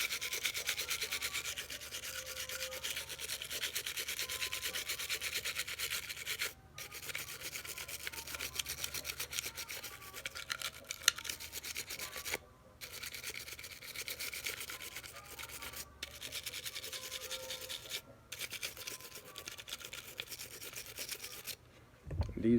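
Brush scrubbing on full-size Glock pistol parts during cleaning, a steady close rasping rub that runs continuously with a few brief pauses.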